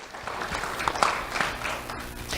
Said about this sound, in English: let's have a round of applause for Adam, Dave, and Riley